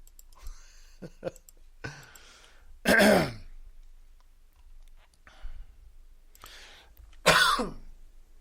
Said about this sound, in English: I've been coughing all morning.